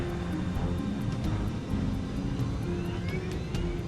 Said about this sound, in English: The 747 accelerates towards takeoff speed